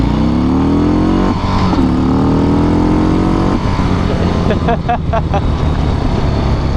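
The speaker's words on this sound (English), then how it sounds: "The 114 Milwaukee 8 is still a pretty impressive motor." A Harley-Davidson FXDR with a Milwaukee-Eight 114 engine accelerates, its deep V-twin exhaust rising in pitch through the gears with brief shift breaks, loud and close, alongside wind and road noise.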